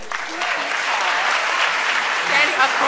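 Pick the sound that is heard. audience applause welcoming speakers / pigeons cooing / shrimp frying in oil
audience applause welcoming speakers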